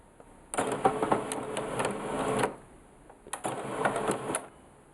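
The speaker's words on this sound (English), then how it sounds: "The printer is now switched on." A Samsung CLP-315 colour laser printer with a developer home error powers up, its mechanism running in two whirring, clattering bursts of about two seconds and one second, each with a high whine, separated by a short pause.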